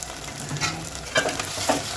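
Fried onions tossed with fresh coriander and curry leaves in a pan for chicken fry, a steady sizzle under several scraping stirs with a spatula, close and moderately loud.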